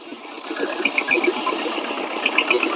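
A tractor's steady mechanical engine drone with a fast, rattling pulse, running continuously at moderate loudness.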